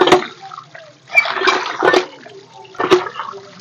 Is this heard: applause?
no